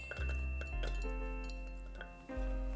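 Chopped onions and radish tumble into a metal stew pot for a vegan almond pulp jjigae, giving a few close clinks and knocks over a steady low hum, with no talk.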